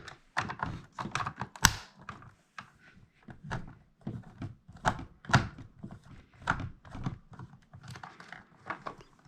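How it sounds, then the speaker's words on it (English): Small screws being worked out of a GoPro camera, a busy run of light clicks, taps and tiny plastic knocks at close range, quiet and irregular with no talking. "So I'm going to try to take these screws out."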